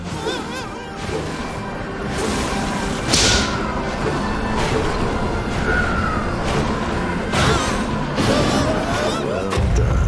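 Loud crashing and thudding impacts with sharp whooshes and metallic clangs as a cannon is smashed loose in the video game Roadside Destruction, several hits in quick succession over busy background noise.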